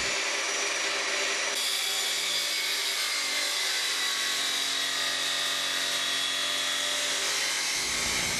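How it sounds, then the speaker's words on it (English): A cutoff saw slices through thin metal U-channel edging, its blade howling in a sustained high-pitched, steady screech that stays loud and close throughout, with no voices. "Slowly lower the blade of the cutoff saw to cut through the U-channel."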